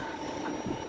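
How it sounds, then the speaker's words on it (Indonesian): A Czech passenger train rolls along at steady speed, giving a continuous close rumble with a faint high whine and no talk over it. "Jadi ini kereta Ceko."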